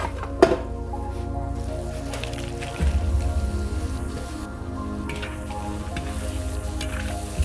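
Loud, constant sizzling of vegetables frying, with a sharp clatter near the start and a surge of hissing as shellfish shells go into the pan.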